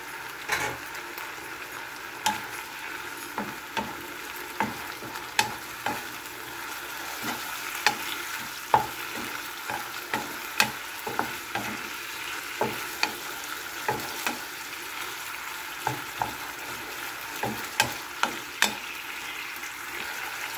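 Butter sizzles and fries steadily in a pan beside sliced beef and mushrooms, broken by repeated sharp scrapes and taps of a utensil stirring every second or so, close and moderately quiet, with no talking.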